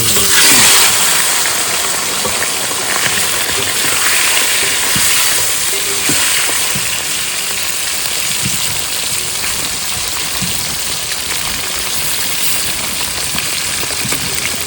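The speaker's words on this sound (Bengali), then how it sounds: "সব মাছ ভেজে নিয়েছি এইবার চাপিয়ে দেবো তরকারি আলু কাঁচা লঙ্কা রসুন পেঁয়াজ টমেটা সব একসঙ্গে দিয়ে দেবো" Potatoes, green chili, garlic, onion and tomato frying together in a pan for a fish curry, a loud steady sizzle and crackle close by, continuous and unbroken, with no speech.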